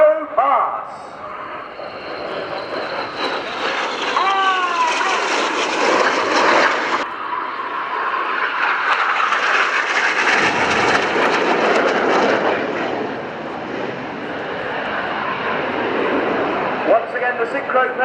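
A jet display team roars past performing the Jippo pass at the RIAT airshow at Fairford, with loud sustained engine noise swelling and fading over a long stretch, and commentary continues underneath.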